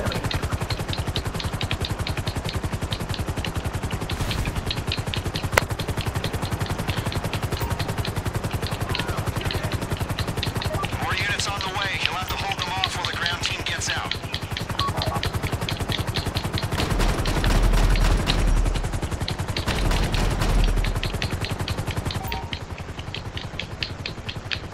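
A helicopter in a first-person heist video game thrums steadily and loudly throughout, with rapid gunfire-like clatter mixed in and a denser burst of noise near the end.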